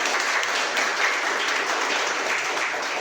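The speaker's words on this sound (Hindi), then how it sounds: "उनके लिए एक बार जोरदार तालियां हो जाए" Steady applause from a crowd at a product presentation in a hotel, a dense wash of clapping that holds at an even level throughout.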